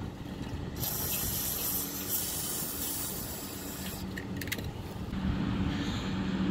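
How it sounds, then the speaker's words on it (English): WD-40 lubricant is sprayed inside a brake drum on a car hauler trailer, a sustained close hiss lasting several seconds, with a brief clink of metal parts partway through. "we're gonna use uh, WD-40 to spray some of it inside to make the parts turn better"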